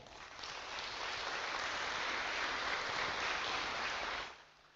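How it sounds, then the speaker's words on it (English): An audience at an Atomy business presentation breaks into steady, dense applause that holds for about four seconds before fading out quickly. "Let's clap for that"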